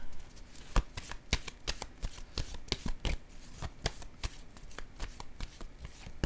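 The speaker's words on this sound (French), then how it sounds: "je vais déposer une autre carte" Tarot cards are handled and laid down one after another: sharp, quiet slaps and flicks of card stock close by in an irregular rhythm, with no talking.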